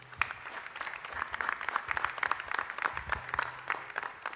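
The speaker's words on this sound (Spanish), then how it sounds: "Fuertes los aplausos." Congregation applauding during a live-broadcast Mass at a parish church in Itá, a dense, steady patter of many hands clapping throughout, moderately near and without speech.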